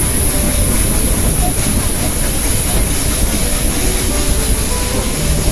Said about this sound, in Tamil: இப்போ வந்து நீங்கள் வீடியோவில் பார்க்குறது தான் ஊட்டி டாய் ட்ரெயின்.